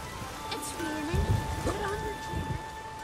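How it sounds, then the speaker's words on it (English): Rain hisses steadily through a storm in The Witcher 3, with low rumbles of thunder swelling underneath and sustained musical tones layered over it. "The storm, damn it."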